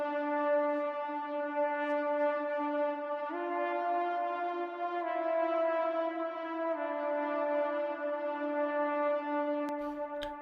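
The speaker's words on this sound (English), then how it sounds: "These are some lead sounds from a synthesizer." Synthesizer lead in an epic hybrid trailer track, playing long buzzy sustained notes that step to new pitches a few times, steady and up front with no talk.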